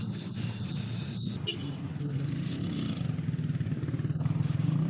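A motorcycle pulls away after a slight turn on a road in Pasir Koja, its engine droning steadily and swelling toward the end as it accelerates, with light road noise and a few faint clicks; no talking.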